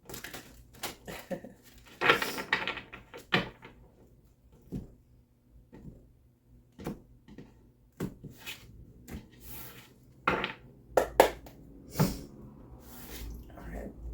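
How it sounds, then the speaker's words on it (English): Soft papery shuffling and riffling of a large, hard-to-shuffle deck of tarot cards in short bursts, with light taps and clicks, close up and fairly quiet. "This deck is so big, it's kind of hard to shuffle."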